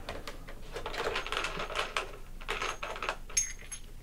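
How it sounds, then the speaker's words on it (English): A homemade 3/4-inch PVC bracket is taken off a table, producing a close series of light plastic clicks, knocks and rattles in irregular bursts. "I'll go ahead and remove this PVC, 3/4 inch PVC bracket that I made"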